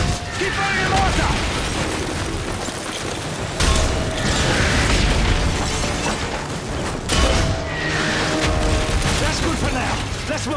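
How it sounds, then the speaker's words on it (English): Mortar rounds firing in Call of Duty Modern Warfare 3 during a village assault, dense booming bursts and mechanical clatter with heavy low rumble, loud and sustained, with voices talking throughout. "If it moves, put a mortar shell on it. Keep firing the mortar."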